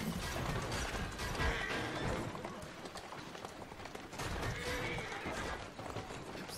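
Horse hooves clatter steadily under constant mechanical and ambient game noise in Assassin's Creed Syndicate, a Victorian London setting, with no clear neigh standing out.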